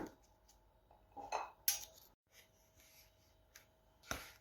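Homemade qurabiya cookies set down on a plate, giving a few light clinks and soft scrapes spaced out over quiet room tone, with no talking.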